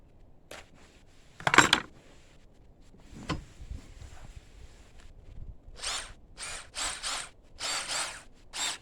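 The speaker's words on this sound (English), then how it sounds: "First thing I'm going to do is a pilot bit." A power drill with a one-eighth-inch bit drills a pilot hole, a loud, brief burst, with a few clicks and tool handling, then a run of short repeated whirring pulses.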